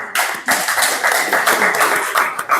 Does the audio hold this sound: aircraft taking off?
no